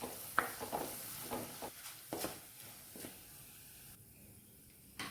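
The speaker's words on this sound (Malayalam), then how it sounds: "നമുക്കിതിലേക്ക് ചതച്ച് വെച്ചിരുന്ന ഇഞ്ചിയും വെളുത്തുള്ളിയും കൂടി ഇട്ട് കൊടുക്കാം." Crushed ginger, garlic and curry leaves sautéing in hot oil for a fish curry, with soft sizzling and intermittent stirring scrapes close by, fairly quiet overall.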